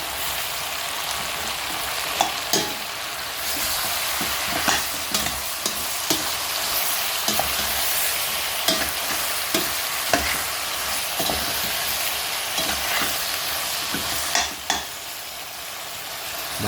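Onion sizzles steadily in a pan for a beef stew, a continuous broadband hiss with repeated sharp clicks and scrapes of stirring scattered throughout, close and fairly loud with no talking.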